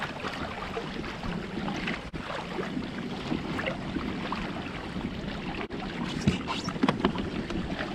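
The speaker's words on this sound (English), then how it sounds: "we're pedaling the Hobie with the trolling motor helping us" A Hobie Outback kayak moves across open water, pedaled with help from a Motorguide trolling motor, giving a soft wash of water and a light hum under faint wind noise, with no talk.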